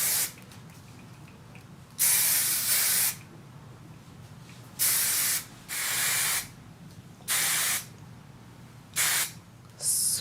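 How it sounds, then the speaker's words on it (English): Five or six long bursts of hairspray, each hissing a second or so with brief pauses between, close and loud. "want to just hit it with some hairspray, and I like to lift up and spray in between"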